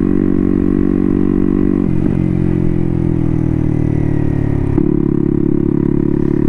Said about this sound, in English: this frickin' exhaust is literally just like ringing in my left ear